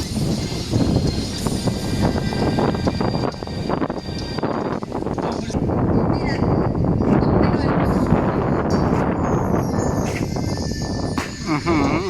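Strong wind buffets a microphone beside a tall oil palm tree about 10 meters high, giving a loud, continuous rumbling rush with gusty swells, while someone talks over it.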